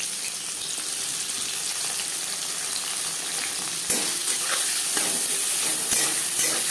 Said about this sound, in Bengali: দিয়ে দিয়েছি বেশ খানিকটা রিফাইন্ড অয়েল সবার প্রথমেই পেঁয়াজ ভেজে নেব